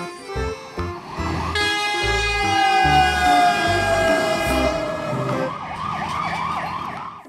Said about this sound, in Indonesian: Ada mobil polisi.